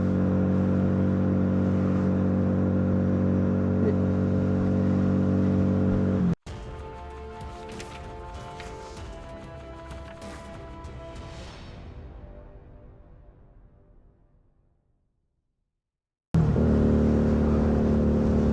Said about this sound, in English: This bike is rather loud, but it does sound